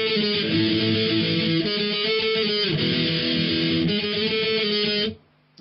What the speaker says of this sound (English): So the pre-verse is going to sound like this then.